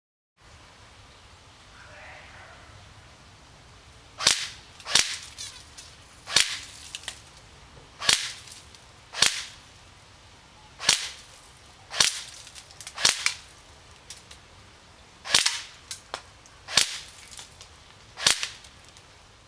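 A Cybergun Thompson M1A1 airsoft gun fires semi-automatic at a target about 50 feet away: after a quiet start come about a dozen sharp, snappy clicks, evenly spaced roughly a second apart, close and crisp.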